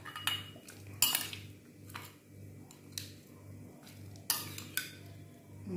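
A metal spoon scrapes and clinks against a cooking pot holding boiled pork bones for a Balinese home-style dish, several sharp scattered knocks and scrapes over a low steady hum.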